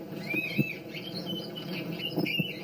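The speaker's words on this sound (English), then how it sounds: "That's the sound of a rabbit in distress." Rabbit distress squeals played from a predator decoy come as thin, wavering high cries in short bursts, faint and somewhat distant, with soft thumps and rustling beneath.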